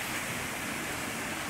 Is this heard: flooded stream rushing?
yes